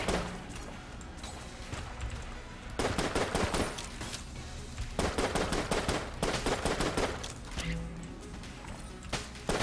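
Rapid video-game gunfire from Enter the Gungeon, dense bursts of shots coming in loud clusters with brief lulls between volleys, sitting over a steady game soundtrack.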